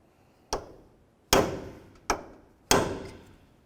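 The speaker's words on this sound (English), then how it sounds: "take a hammer and punch and peen the nut down into that slot" Four sharp metallic hammer strikes on a punch, peening an axle nut into its slot on a 2004-2006 Scion xB front hub, each ringing briefly in an uneven rhythm, close and alone.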